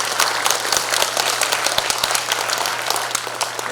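Delegates at a Democratic Party district convention give a short burst of dense, brisk applause, close and steady throughout with a low hum beneath.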